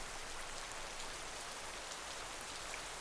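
Steady rain falling during a storm, an even, broadband hiss of drops on surfaces that holds constant throughout, moderately quiet, with no voices.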